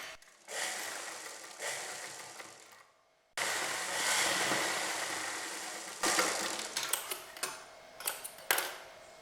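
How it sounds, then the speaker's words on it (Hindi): Sewing machine stitching a fabric strip for a sleeveless blouse, with a rattling, ticking motor running in several bursts separated by short pauses, close and clear with no talk. "पहले आप नॉर्मली इस तरह से सिलाई लगा लीजिए।"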